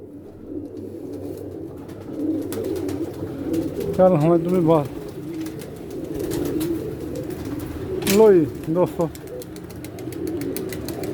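Pigeons cooing nearby, with two clear rolling coos standing out over a busy outdoor background while someone talks.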